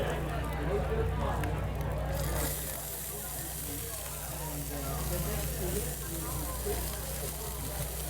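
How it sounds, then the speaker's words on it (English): Chopped onion and celery sweat in rendered bacon fat with a touch of olive oil, giving a steady close sizzle and crackle that runs under a person talking throughout. "we're just going to sweat these vegetables in that bacon fat and just a little touch of olive oil"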